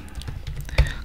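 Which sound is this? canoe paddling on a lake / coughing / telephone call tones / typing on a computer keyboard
typing on a computer keyboard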